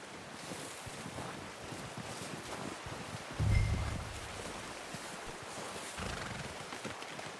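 A horse in Red Dead Redemption 2 in a snowy outdoor hunt, with soft hoof clip-clops over a windy ambience and a brief, loud snorting neigh midway; no one speaks.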